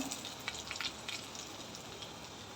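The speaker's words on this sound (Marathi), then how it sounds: "आता मसाले टाकून घेऊया अर्धा चम्मच हळद दोन चम्मच मिरची पावडर अर्धा चम्मच जिरा पावडर" Turmeric, chili powder and cumin powder fry with a jackfruit vegetable dish in a pan, giving a faint, steady sizzle with scattered soft crackles and pops throughout.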